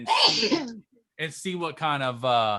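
A single sharp human sneeze at close range during a video conference session, followed after a brief pause by a person talking.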